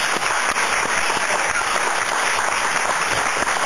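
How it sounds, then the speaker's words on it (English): Steady applause from a studio audience at the I'm A Celebrity 2008 final, a dense wash of clapping filling the whole stretch at an even level, with no talk over it. "Give a round of applause"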